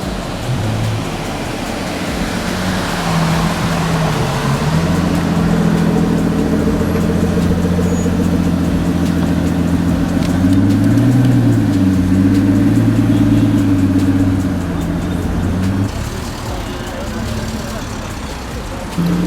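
A Pagani Huayra supercar arriving at a car show, its engine rumbling loud and close with rising and falling revs over a constant crowd and outdoor wash.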